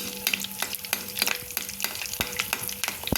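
Vada pav potato fritters fry in hot oil as oil is spooned over them, a constant crackling sizzle broken by sharp, regular clicks of the spoon against the pan.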